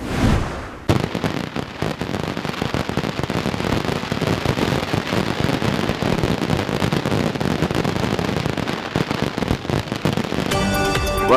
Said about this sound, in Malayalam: വർണ്ണവിസ്മയം തീർത്ത് തൃശൂർ പൂരം സാമ്പിൾ വെടിക്കെട്ട്.